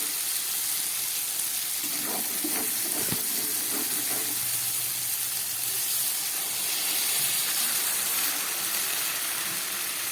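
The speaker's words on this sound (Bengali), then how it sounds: "ঝোলটা ফুটে উঠেছে।" Chana dal dhoka curry broth boils in a pot, giving a continuous close hiss with faint bubbling and a few soft knocks, steady throughout.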